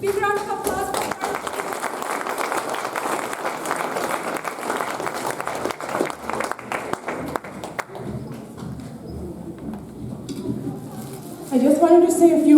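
Audience applause fills a community event hall, steady clapping from a crowd for most of the stretch before it thins out, with a voice rising near the end.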